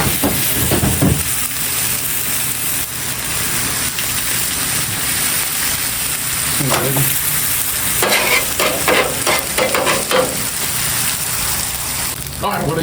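Eggs and hash browns frying on an Aldi griddle give a steady, close sizzle throughout, with occasional scraping and stirring sounds and brief moments of voice in the background.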